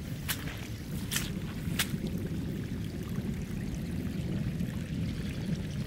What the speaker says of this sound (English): I've never seen the water run out like this before.